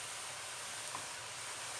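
Onions and spinach sautéing in a pan for cheese-filled börek, a soft, steady hiss of sizzling throughout, faint and even with no speech.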